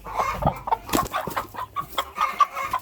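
A broody hen sitting on eggs clucks repeatedly in low, murmuring bursts at close range, with a few sharper cackles mixed in and no talking.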